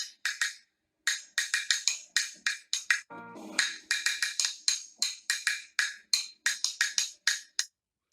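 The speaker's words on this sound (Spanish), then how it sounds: "De un sonido corto, un cajón chino." A Chinese wood block is struck in many quick, sharp, dry knocks, clustered in uneven bursts with brief pauses between them, each hit crisp and short.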